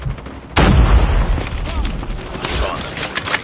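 A sudden heavy boom from a grenade blast in Call of Duty Mobile multiplayer, loud and close, followed by a rumbling tail with game voices and battle noise underneath.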